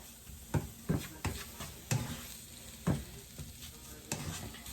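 A flour roux cooking in a pan while being stirred, making a steady low sizzle punctuated by about six sharp scrapes and clinks of the utensil against the pan, close and fairly quiet, with no talking.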